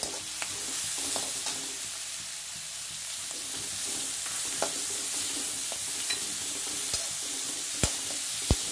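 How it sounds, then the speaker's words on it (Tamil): Onion and capsicum for pasta sauté in a pan with a constant close sizzle, punctuated by sharp clicks and scrapes of a spoon stirring against the pan. No voices are present. "இப்போது வெங்காயம் லைட்டாக வதங்கினதும் நாம் கேப்சிகம் ஆட் பண்ணிக்கலாம்"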